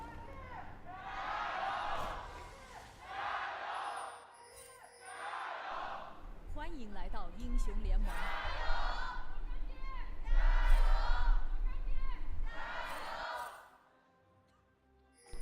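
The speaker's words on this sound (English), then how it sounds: "it sounded like a stronger chant towards LGD" A large esports arena crowd at an LPL match for LGD chants in rhythmic surging waves, each call a loud roar of many voices, with louder cheering in the middle before the noise drops off at the end.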